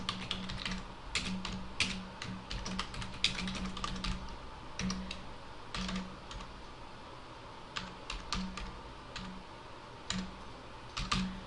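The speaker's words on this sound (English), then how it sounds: "And I'm just going to type" Close, steady typing on a computer keyboard while filling in form fields, with quick irregular key taps and a low electrical hum beneath, no voices.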